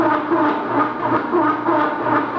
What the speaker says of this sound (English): during your spin cycle, your washer will sound like this.